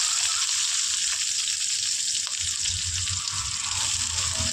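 Mustard seeds splutter in hot oil as onion and green chilli fry, giving an even, continuous close sizzle with faint crackles and soft stirring underneath.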